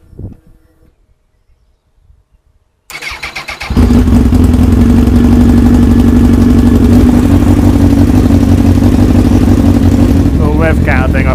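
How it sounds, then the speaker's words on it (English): A Honda Fireblade motorcycle engine, filled with waterless coolant, fires up in a garage after a few seconds of near silence. It catches with a stuttering burst, then settles into a loud, steady, close idle that runs to the end. "we're just going to fire up now, and let's hope the fan comes on"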